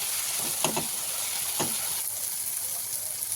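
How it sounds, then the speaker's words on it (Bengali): Ground cumin and coriander masala frying in oil in a pan for a soybean curry, a steady soft sizzle with a few stirring scrapes, close and on its own. "আমি এই মশলাটা এবার কষতে থাকবো যতক্ষণ না তেল ছাড়ে।"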